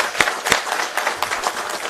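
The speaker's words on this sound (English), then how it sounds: "I think that deserves a big round of applause." Audience applause at a corporate event marking the opening of a large Eurofins facility in India, with a few sharp claps standing out over a steady, moderately loud patter of clapping.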